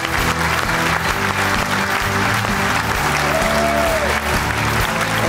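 Audience applause greets a singer, an Honored Artist of Armenia, as he comes on stage at a comedy league final, a steady dense clapping that runs loud and unbroken throughout, with musical tones underneath.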